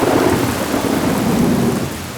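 A thunderstorm sound effect in a children's story rumbles loudly and continuously, heavy rain pouring alongside a deep, rolling thunder roar with no voices.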